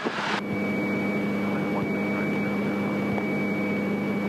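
A Hawker business jet at an airport, its engine giving off a steady whine and hum from a moderate distance, continuous throughout after a brief burst of hiss at the start, with no speech.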